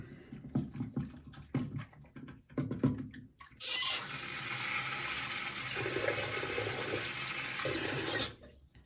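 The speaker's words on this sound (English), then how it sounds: "I'll rinse my hands off" Hands are rinsed under a running tap: a few soft splashes and rubs first, then a steady loud gush of water for several seconds that stops abruptly.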